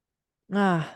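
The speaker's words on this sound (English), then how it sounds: "I see that big yawn." A single short, voiced exhale after a moment of silence, a drawn-out yawn-like breath that fades away.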